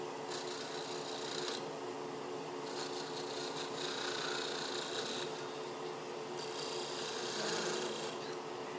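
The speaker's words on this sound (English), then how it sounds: "just do a quick little peeling cut to clean this up" A woodturning lathe makes a light peeling cut on a wooden piece near a dovetail, giving steady rasping, scraping bursts that rise and fall over a constant motor hum, close and fairly quiet.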